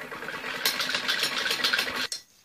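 A sewing machine stitches elastic into a trouser waistband. One continuous, close mechanical whir runs for about two seconds and then stops abruptly.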